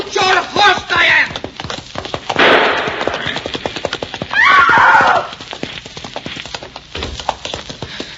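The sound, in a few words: horse galloping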